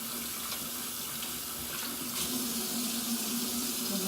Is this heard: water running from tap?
yes